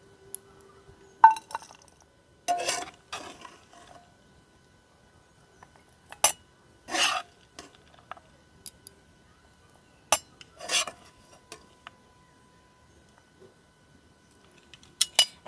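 A spoon scoops semolina upma into a bowl, giving scattered metallic clinks and short scrapes against the dish in quiet, separate bursts.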